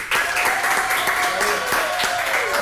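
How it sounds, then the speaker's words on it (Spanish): Studio audience applause for guest Cecilia Blume on a talk show, a continuous wash of clapping laid over sustained background tones, with speech present. "Un aplauso, por favor, para Cecilia Blume."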